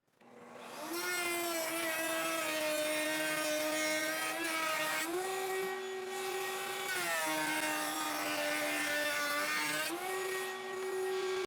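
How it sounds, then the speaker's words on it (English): Router cutting a rabbet into wooden shelf rails, a loud high-pitched whining motor with a screaming cut that dips in pitch as the bit bites, running steadily with brief pitch changes between passes. "while I was routing the rabbet into all of my front rails"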